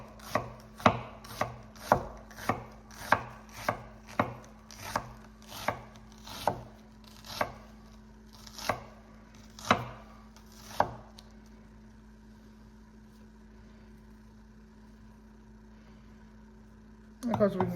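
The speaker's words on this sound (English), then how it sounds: "Especially the yellow onion, because these usually are used for sauteing." A knife finely chopping a yellow onion on a cutting board, about fifteen crisp evenly spaced chops that stop, followed by a quiet pause with low room hum and a brief clatter at the end.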